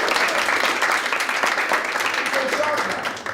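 An audience gives a student a loud round of applause, dense continuous clapping with a voice speaking over it near the end.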